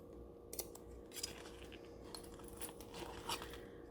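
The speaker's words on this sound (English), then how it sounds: "In the curve, we are cutting some tiny little snips." Small scissors make a few light, quick snips into fabric around the curved zipper edge of a handmade wallet, faint and close in a quiet room.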